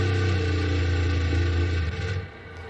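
Max Verstappen's Formula 1 car at the Australian Grand Prix hums with a low, steady engine note while suffering a fuel supply fault, then the sound drops away abruptly near the end.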